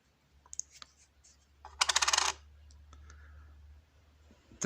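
A worn Ukrainian 50-kopiyka coin, once soaked in acid, is set down on a scale for weighing, giving a short burst of metallic clinks and rattles that settles into a quiet background hum.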